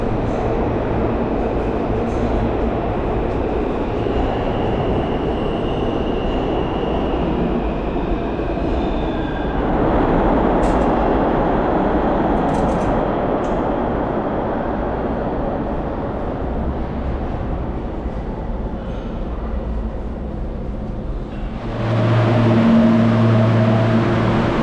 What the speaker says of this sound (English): I'm getting on the train and I'm going into Manhattan